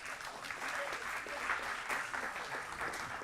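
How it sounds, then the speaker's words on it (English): An audience at a school board meeting applauds a student athlete, a steady, dense patter of many hands clapping at moderate distance with no voices over it. "Let's give Mariana another round of applause"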